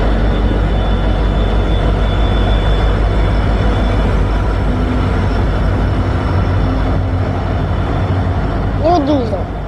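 A new diesel locomotive pulling a train rumbles past close by, with a loud, continuous low engine drone and rolling rail noise that stays steady throughout, a brief higher whine near the end.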